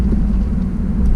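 A 2019 Subaru WRX 2.0L turbo accelerating on a test drive, a loud, steady low engine and exhaust drone heard from inside the cabin, with no talking.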